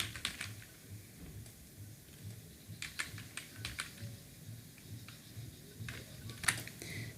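Keys tapped on a computer keyboard while entering a security code for an online university admission form, a quiet run of quick, uneven clicks with short pauses between bursts.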